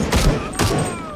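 Machine gun fire in the game Shadow of the Tomb Raider, two short bursts of rapid shots, each a dense thudding cluster with a brief gap between, moderately loud.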